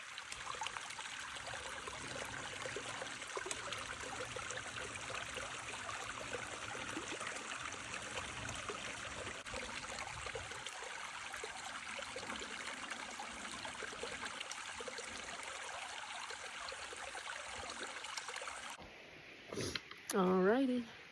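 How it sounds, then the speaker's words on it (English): A river stream trickles and flows steadily beside a campsite, a soft, continuous watery hiss heard alone for most of the clip before a voice briefly speaks at the end. "And I'm just sitting here at the river."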